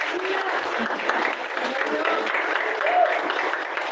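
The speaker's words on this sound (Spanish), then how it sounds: "¿Por qué das un fuerte aplauso, Señor?" Church congregation gives a strong, sustained round of applause during a sermon, a dense, even wash of clapping with faint voices mixed in.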